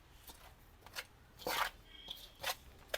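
Ash, cow dung powder and super meal fertiliser being mixed together for pea plants, heard as a few soft, scratchy rasping bursts with brief gaps, quiet and close.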